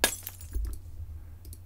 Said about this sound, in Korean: 두 개의 유리 소리를 겹쳐서 다 깨지는 느낌이 들도록